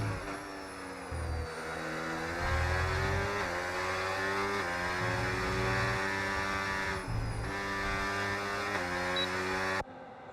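Race car engines in a racing video game, an Aston Martin among them near Barcelona, whine steadily at high revs with shifting pitch as cars pass, a continuous layered drone.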